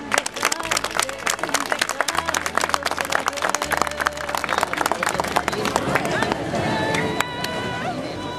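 Worshippers at an outdoor Mass for the Virgin of Urkupiña in Salta, 2015, break into loud, dense applause, with voices mixed through the crowd noise and a few sustained tones near the end.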